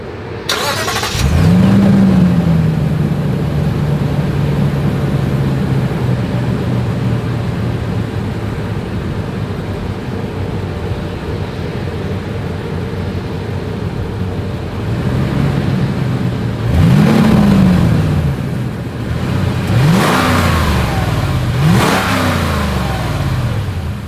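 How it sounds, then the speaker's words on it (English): A 2022 Lexus GX 460 SUV's exhaust fires up with a loud start and settles into a steady idle, then rises in several sharp revs near the end, recorded close to the tailpipe with no talking. "As always, here is that exhaust clip."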